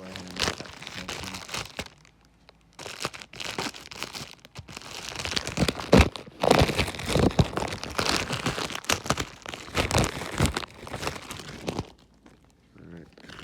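Plastic packaging around an Intex air mattress is cut and pulled open, with irregular crinkling, crunching and tearing bursts over roughly thirteen seconds, up close, mixed with some voice.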